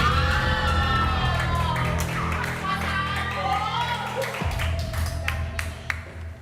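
Studio audience on a Filipino reality TV show applauds and cheers loudly and steadily throughout, with whoops and yells rising over the crowd noise and a music bed underneath.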